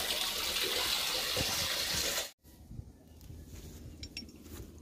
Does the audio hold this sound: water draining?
yes